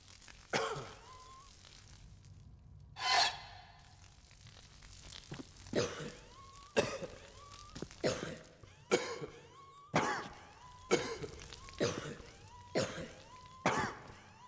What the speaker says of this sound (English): release the destructive force of a slight cough